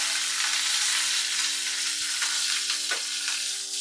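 Curry leaves dropped into hot oil for tomato rasam give a steady, loud sizzle and crackle throughout, with a few sharper pops near the end and no voices.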